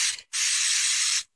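White Color Place spray paint hisses from an aerosol can in two close bursts, a short one and then a steady spray of about a second.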